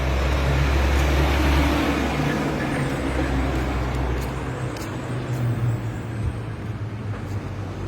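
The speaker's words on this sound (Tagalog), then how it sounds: "Maingay pa kasi may mga sasakyan na dumadaan." Steady roar of morning road traffic with vehicles passing continuously nearby, loud and dense at first and easing slightly later, with no talk over it.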